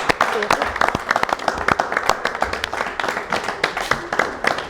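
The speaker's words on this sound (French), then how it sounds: "Est-ce qu'on peut applaudir pour cette série?" A small audience applauds after a question session, with individual claps clearly separated in an uneven patter, fairly close, and a voice speaking faintly beneath.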